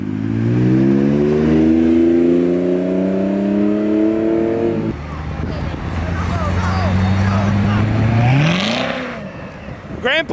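A Lexus with a 2JZ engine accelerates hard, its engine note climbing steadily through a long gear before a brief drop and another rising pull. The sound is loud and close, with people shouting over it.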